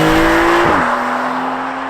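A Porsche 911 (992) with a 450-horsepower 3-litre twin-turbo flat-six mounted at the rear pulls hard. A loud, steady engine tone drops in pitch at a gear change partway through, then carries on strongly.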